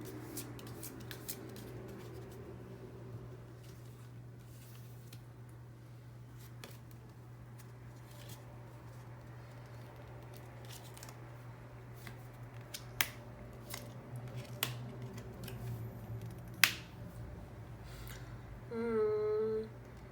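Tarot cards are shuffled and drawn by hand, giving soft scattered rustles and a few sharp snaps over a steady low hum, with a short chirping sound near the end and no talking.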